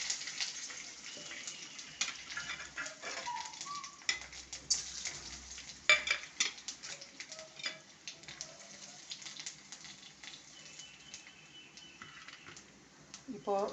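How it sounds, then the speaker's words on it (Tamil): Tempering spices sizzling in hot oil in a pan for a Tamil rice dish, a soft steady frying hiss with stirring clatter and scrapes, faint and close, under someone speaking. "தாளிப்பு சேர்த்தலாம்."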